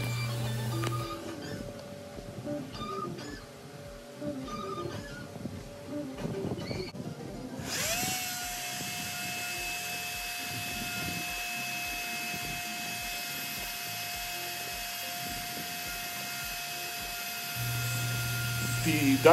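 A wood router cuts a star inlay into wood using a template with a guide bushing: a steady loud motor whine begins partway through and runs on after quieter handling clicks and faint background sounds.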